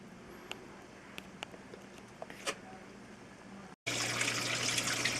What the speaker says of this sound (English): I got the water going here in the pump, and this pump is a pretty powerful little pump